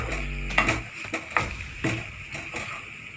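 Paneer and potato frying in a pan, with soft sizzling under a series of sharp scraping stirs and spatula knocks against the pan, close and fairly loud.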